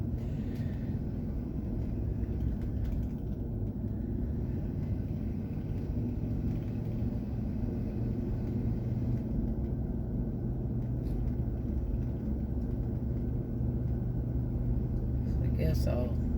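A truck engine idles nearby in a low, steady rumble that continues throughout, with a voice talking over it and a brief sharper sound near the end.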